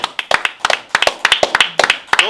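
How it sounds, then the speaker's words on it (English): Several distinct hand claps land in an uneven, spirited rhythm at close range, mixed with a voice cheering and talking over them during a church tribute to an elder. "I got to clap for that one."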